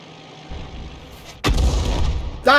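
A 105 leFH18B2 artillery gun in a video game fires with one loud, sudden boom that rolls on as a rumbling tail, with a quieter low hum beforehand and a sharp metallic ring at the very end.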